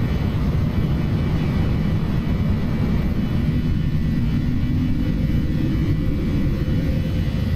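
A PMDG 737-800 jet airliner climbs after takeoff in a flight simulator. Its engines give a loud, steady, low roar with no break and no voices.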